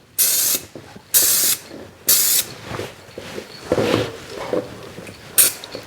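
Several bursts of aerosol spray paint hiss, three evenly spaced long blasts followed by shorter, softer spurts and a final brief burst.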